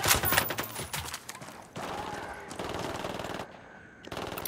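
Rapid bursts of automatic gunfire crackle in a tactical shooter firefight in Ghost Recon Wildlands, several dense volleys separated by brief gaps, moderately loud with no clear talk.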